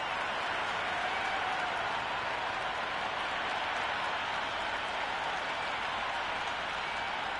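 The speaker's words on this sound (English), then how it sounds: "already the crowd is up and about" Broad, steady crowd noise from a cricket stadium in the Cricket 26 video game, a constant wash of distant cheering and applause with no voices.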